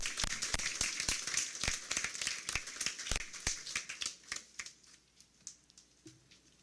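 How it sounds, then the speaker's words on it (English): Scattered applause at a school board monthly meeting in Martinsville, a modest group clapping steadily for several seconds before thinning out to a few last claps. "Let's get a round of applause for Ms. Littell as well for her work this se"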